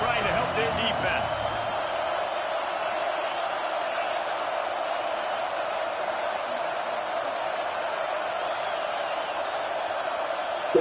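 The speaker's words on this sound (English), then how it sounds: "Listen to this crowd just shaking the girders of this place, trying to help their defense." A football stadium crowd roars in a dense, continuous wash of cheering that fills the whole stretch, loud but distant, as the home fans try to help their defense.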